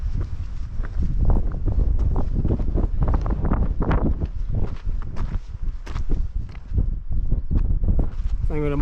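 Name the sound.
wind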